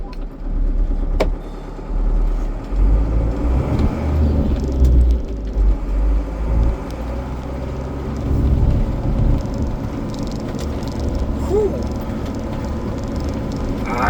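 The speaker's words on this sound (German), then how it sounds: "Den ganzen Tag kommt kein Auto und jetzt kommen so viele." Several cars drive past on a quiet road near Grand Staircase-Escalante, engines and tires rumbling in and out as each vehicle approaches and fades, with steady road noise between passes and no talking.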